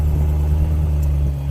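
A BMW E92 M3 running on E85 idles as it warms up after a cold start, a loud, steady low rumble with a deep, even drone and no revving across the short stretch.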